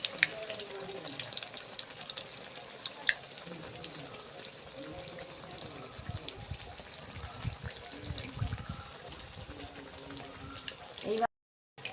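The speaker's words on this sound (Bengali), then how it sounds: "এইভাবে উল্টে পাল্টে ভালো করে ভেজে নেব।" Continuous hiss and crackle of gram-flour-battered eggplant slices deep frying in oil, steady and close, with a brief silence near the end.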